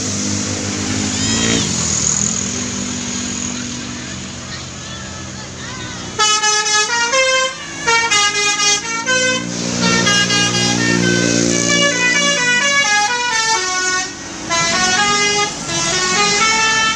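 Musical telolet horns blare from buses in a convoy of dozens of bus-enthusiast trips, loud repeating melodic toots in bursts over a steady engine and crowd rumble, with people shouting nearby.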